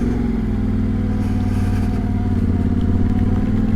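Yamaha T7 World Raid motorcycle climbing a steep hill, its engine holding a steady, loud, close drone with rhythmic low thrum and slight rev changes throughout, no voices.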